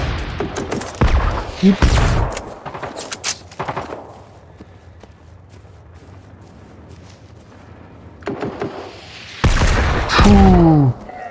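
Gunfire in the video game Generation Zero: bursts of rapid shots and booms, a quiet lull, then more bursts with a whining machine tone near the end. A voice makes a brief remark.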